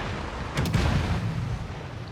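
Ship guns boom in a naval battle video game, a low rumbling blast swelling halfway through over a steady background roar of battle noise.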